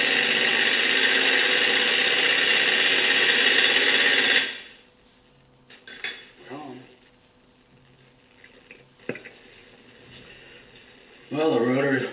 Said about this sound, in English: 1/2" air gun is all you need.